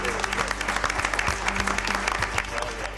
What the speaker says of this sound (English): I think everybody in here deserves a round of applause.